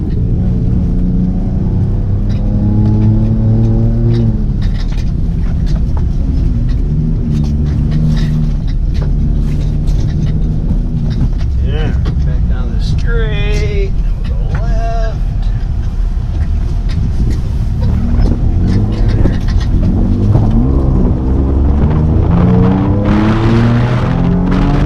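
A Chevrolet ZR2 pickup with long-travel suspension runs off-road in four-wheel drive, its engine rumbling and revving up and down in waves over continuous rough-terrain noise, with people talking inside the cab throughout.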